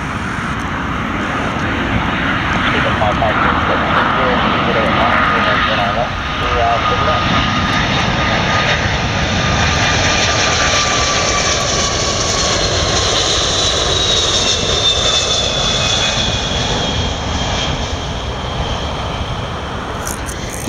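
Virgin Atlantic Airbus A340-300 jet landing at Heathrow, its loud steady engine roar filling the air throughout with a slight shift midway, heard close by outdoors.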